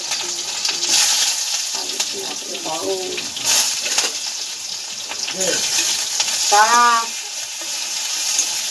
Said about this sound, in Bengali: ভাজার মধ্যে একটু পাঁচফোড়ন দিই না